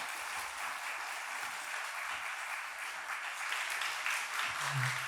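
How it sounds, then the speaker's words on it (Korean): A church audience gives sustained, vigorous welcoming applause as a pastor and worship minister comes forward, dense broadband clapping throughout with a brief voice near the end. "우리 나오실 때 힘차게 한번 환영의 박수로 맞이해 주시면 감사하겠습니다."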